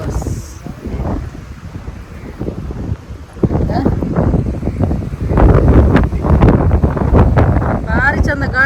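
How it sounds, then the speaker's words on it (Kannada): Wind buffets the microphone outdoors in loud, rumbling gusts that grow stronger partway through. A person talks underneath. "ಗಾಳಿ ಎಲ್ಲ"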